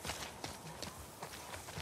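A horse in The Last of Us Part 2 clip-clops along with quick, evenly spaced hoofbeats, faint and fairly distant.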